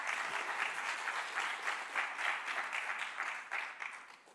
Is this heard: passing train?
no